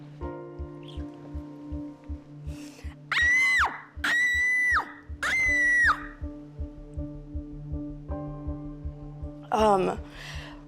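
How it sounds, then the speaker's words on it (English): A boy with Tourette syndrome lets out a screaming vocal tic, three sharp shrill screams in quick succession, then a wavering higher shriek near the end, against a rhythmic low background hum and soft noises. "This screaming tick has kind of come out of nowhere"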